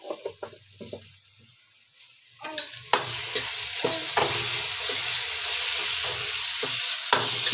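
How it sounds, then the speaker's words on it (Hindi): A spiced mixture seasoned with salt, chili and turmeric hits a hot pan, starting with a few soft taps before a loud, steady sizzle of frying takes over, broken by close stirring scrapes, with no voices. "सिर्फ मिक्स करना है और कुछ नहीं करना।"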